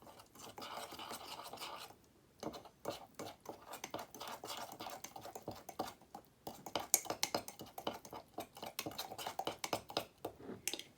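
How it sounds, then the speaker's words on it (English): A spoon scrapes and clinks rhythmically against the inside of a mug while stirring mug cake batter, quick close scratchy strokes with a brief pause early on, faint and intimate. "Then you're going to take your spoon and mix it all up."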